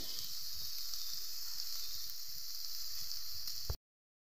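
Chicken, potato, chopped onion and carrot fry together in a pan, giving a steady, even sizzle that runs without a break and then cuts off abruptly.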